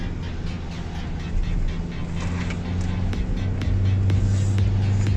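Car engine hauling uphill on a steep mountain road in northern Thailand, a steady low droning hum in a low gear that swells louder toward the end.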